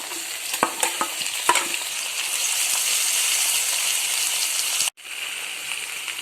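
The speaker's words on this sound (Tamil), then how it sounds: "நம்ம வதக்கி வச்சிருக்க வெங்காய தக்காளியை இப்போ கோவக்காயில சேர்த்துக்கலாம்" Ivy gourd sautéing in a pan with onion and tomato, a loud continuous sizzle with a few scraping clinks of the spoon early on, cutting out abruptly near the end.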